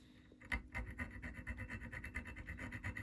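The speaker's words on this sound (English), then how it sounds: "I'm just going to grind down a little bit of those copper legs off the fuse." A hand file grinds down the copper legs of a car heater blower resistor fuse, a quiet, steady run of rapid rasping strokes in an even rhythm, close up, with no talking.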